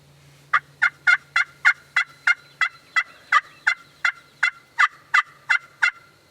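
Young wild turkeys (jakes) gobbling on Tennessee public land, a rapid series of about twenty sharp, evenly spaced gobbles at moderate distance, with no talk.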